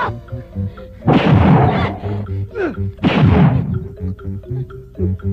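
A gun goes off twice in a comedy movie, each loud, close burst with a rumbling tail, while music plays throughout.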